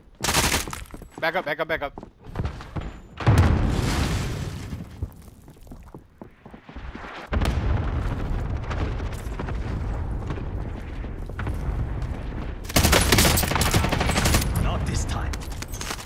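Gunfire in Call of Duty: Warzone, rapid bursts and single cracks popping close and loud, with breaks between, over game noise and voices talking throughout.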